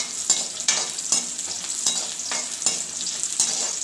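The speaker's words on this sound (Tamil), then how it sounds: "இப்போ சின்ன வெங்காயத்தையும் தக்காளியும் போட்டு நல்லா வதக்கி எடுத்துக்கலாம்" Small onions and tomatoes sauté in a pan, a steady sizzle punctuated by regular spatula scrapes and stirs about every half second, close and clear with no talking.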